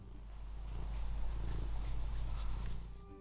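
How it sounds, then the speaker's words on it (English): A pet cat named Raisin purrs steadily and close, a soft, continuous rumbling throb with no other sounds. "this is my pet cat, Raisin."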